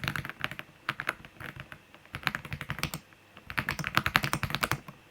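Fast typing on a mechanical computer keyboard with an RGB backlight and Chinese keycap legends, bought from AliExpress: dense bursts of crisp key clicks, close and clear, with brief pauses between runs and no talk.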